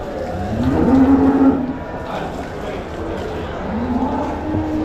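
Cattle moo nearby in two long, low calls, one early and one near the end, over a murmur of outdoor background noise at the Vaniyambadi cattle market.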